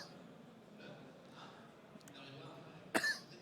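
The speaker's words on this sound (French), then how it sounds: "le climat ici à Clermont-Ferrand te fait tousser, toi." A man gives a single sharp cough near the end, brief and fairly close, over a quiet indoor room hum, in a Clermont-Ferrand setting.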